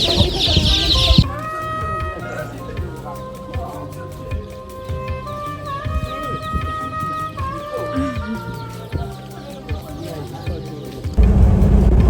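Chicks or chickens clucking and peeping in repeated short calls at close range, fairly loud and steady, with people talking over them, heard during a 4x4 trip across the Sahara desert in Africa.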